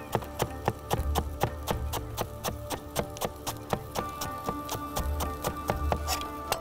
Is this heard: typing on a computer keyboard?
no